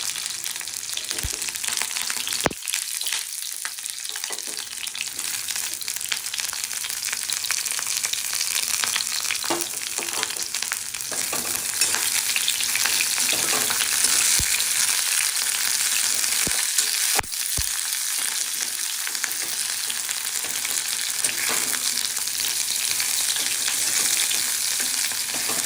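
Moringa drumsticks fry in hot oil in a pan with a steady, loud, bright sizzle that runs throughout, broken by a few sharp pops and spatters.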